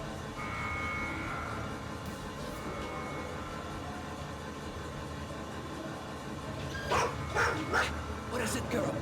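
Gus the dog barks in the video game Road 96, a few sharp barks near the end of a stretch of low rumbling background with a faint tone early on.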